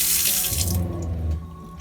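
Water runs steadily from a sink tap in a self-built Dodge Sprinter camper van with a broad hiss, then cuts off near the end leaving a quieter hum.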